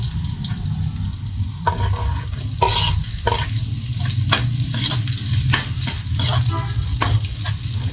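Garlic fries in a pan for chicken adobo, a dense, loud, continuous sizzle with repeated sharp scrapes and clinks of a spoon against the pan, close up and with no talking.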